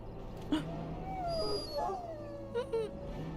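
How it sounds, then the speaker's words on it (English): A dog whimpers in the fantasy role-playing game Dragon Age: Origins at Ostagar, a few soft whines and yelps over a low ambient game background, with no speech. "the dog looks up at you respectfully, backing down from his aggressive stance"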